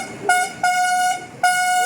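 A vehicle horn honks three times in quick succession, loud and close, with short gaps between the blasts.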